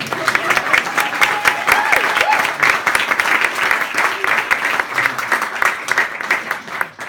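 Applause from an audience at a stand-up comedy show fills the room, thick and sustained, with scattered distinct claps standing out, a faint voice briefly underneath, fading toward the close.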